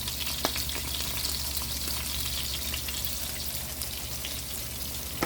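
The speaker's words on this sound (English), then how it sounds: "I'm gonna let these cook for a little bit more" Salmon fillets for a gourmet sandwich fry in a pan, giving a constant crackling sizzle with scattered pops over a low steady hum; no one speaks.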